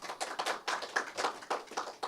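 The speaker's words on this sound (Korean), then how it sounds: "큰 박수 부탁드리겠습니다" Quick bursts of hand clapping from an audience at a Korean research presentation, rising and falling in a loose rhythm for a couple of seconds with no voices over it.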